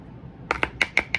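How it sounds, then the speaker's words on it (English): Five quick, close scrapes of a measuring spoon against the lip of a can of dry baking ingredient for homemade blueberry pancakes, each a short sharp metallic rasp in a steady rhythm. "I like these cans because you got a little lip that you can just scrape off of it."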